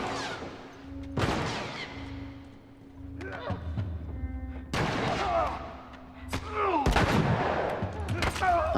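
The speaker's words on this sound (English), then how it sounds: "I'm going to shoot one and then whack one." Gunshots ring out in The Last of Us Remastered, several sharp single shots spaced apart with a low hum between them, the later ones louder and closer together, with brief vocal sounds in between.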